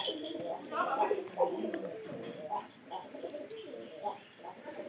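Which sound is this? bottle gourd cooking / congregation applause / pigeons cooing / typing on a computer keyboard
pigeons cooing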